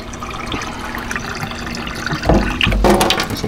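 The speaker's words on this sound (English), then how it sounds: "I'm going to pour 3 cups of water in the bottom of" Water poured from a container into the inner pot of an Instant Pot holding a rubbed corned beef brisket, a low splashing stream that swells louder in the last second.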